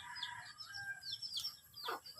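Chickens being fed on a rural farm cluck and squawk in short, overlapping calls, faint and somewhat distant, with one louder sharp cry near the end and no talking.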